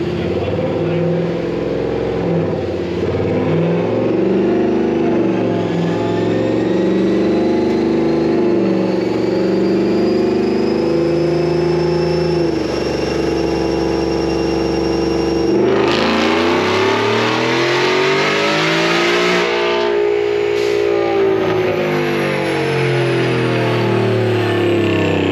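Stage 2 Whipple supercharged engine on a dyno, a long sustained loud pull with a high supercharger whine rising above the engine roar, then a sharp surge and a fall back as revs drop, with voices now and then.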